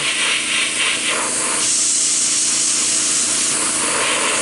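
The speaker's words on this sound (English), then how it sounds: "Just spray a little bit, kind of really at the base of the door here." Airbrush spray hissing steadily as weathering is applied to the base of an HO scale Railbox boxcar door, a close, continuous broadband hiss with slight pulses in the first second and a half.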